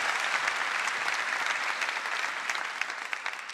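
Steady audience applause for a band at a stand-up comedy show, a dense even wash of clapping that holds loud for the whole stretch and eases only slightly toward the end.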